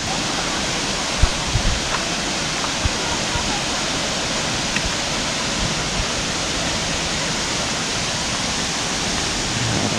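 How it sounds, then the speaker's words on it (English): A rushing waterfall on the Columbia River in Oregon roars as a steady, dense wash of broadband noise, loud and unbroken throughout with no other sounds standing out. "just hearing the sound of the rushing water is very peaceful and calming"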